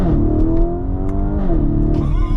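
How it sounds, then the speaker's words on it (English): A 2023 Lamborghini Urus S engine revs loud and close from behind the wheel, its deep growl rising and falling through a couple of quick pitch sweeps without any talking. "Behind the wheel of the Urus S now, and this thing sounds absolutely phenomenal."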